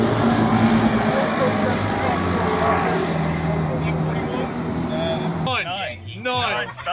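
A car drives past on a town road, a broad rumbling engine and road noise that fades out, followed by people talking close by.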